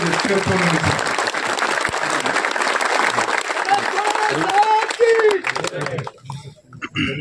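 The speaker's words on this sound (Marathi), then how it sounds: "जोरदार एकदा टाळ्या वाजवूया आपण" Audience at a speech clapping loudly, a dense sustained burst of applause that fades out near the end, with some voices mixed in.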